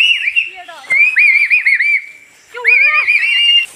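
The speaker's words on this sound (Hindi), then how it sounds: "और ये पीछे सीटी बजा बजा के परेशान कर रहे हैं यहाँ पे।" People whistle in a dense forest, sounding sharp, warbling, bird-like calls in short bursts with brief pauses, fairly close and clear, with no talking.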